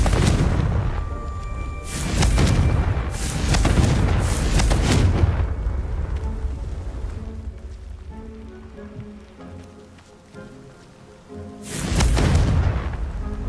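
Repeated Confringo fire spell explosions in Hogwarts Legacy, each a loud, booming, crackling blast. Several bursts land close together early on, then a quieter stretch follows before one more blast near the end.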